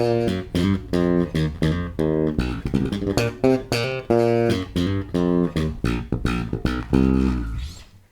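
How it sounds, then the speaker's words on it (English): Bass guitar flurries from three-finger picking woven into a bass line and fills, quick bursts of plucked notes between sustained lower notes, loud and close with no voices. "you can start putting those kind of flurries into bass lines and fills"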